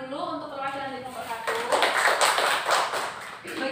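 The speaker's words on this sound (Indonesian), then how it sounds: "Oke, kita beri tepuk tangan dulu untuk perwakilan dari kelompok" Classroom applause for a student group during a microteaching history lesson, a burst of many hands clapping that starts after a voice and swells for a couple of seconds, with talk around it.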